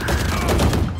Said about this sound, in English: Shot him through the wall.